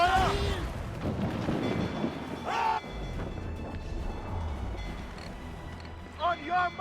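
Ship cannons roar in the video game Assassin's Creed Freedom Cry, heavy booming rumbles rolling through a noisy naval battle, with shouted voices at the start and again near the end.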